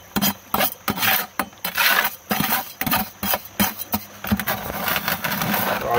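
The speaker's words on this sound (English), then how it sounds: "I bet that's really loud when you scrape around that bucket." Something scrapes around inside a bucket in a rinse and clean-out, giving loud, uneven grinding and rasping strokes in close bursts with short gaps between.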